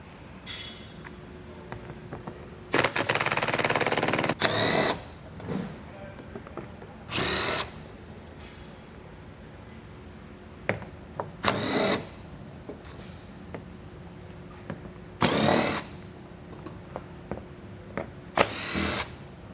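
Power tool removing 10mm bolts from a car belly pan under a 2018 Tesla, heard as several short loud whirring bursts separated by quiet gaps, close and distinct with no voice.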